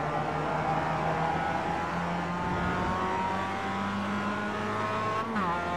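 A Mazda MX-5 race car in a racing video game, its engine droning steadily at high revs from onboard with a smooth upward pitch sweep near the end as it accelerates, alongside faint tire noise.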